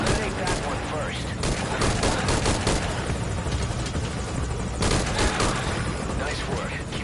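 Military helicopter hovering in Metal Gear Solid V, a loud continuous rotor roar that fills the scene, mixed with bursts of gunfire and battle noise throughout.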